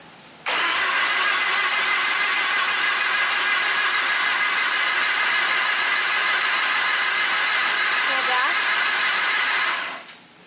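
A rotary-swapped Nissan S15 engine fires on its first start and runs loud, close and steady for about nine seconds with a bright, buzzy tone, then cuts off.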